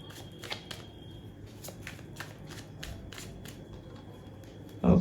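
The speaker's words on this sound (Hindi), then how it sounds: "जब तक मैं कार्ड शफल कर रही हूँ आप पूरा फोकस इधर बना के रखो" Tarot cards are shuffled by hand, making a series of soft, crisp riffling flicks at an irregular pace, close but quiet, with a brief louder bump at the very end.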